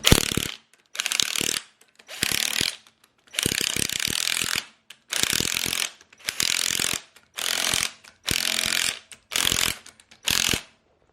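Ratchet tightening kingpin nuts on a Toyota HJ47 swivel hub, about ten bursts of rapid clicking separated by short silent pauses as the handle swings back and forth, close up with no talking.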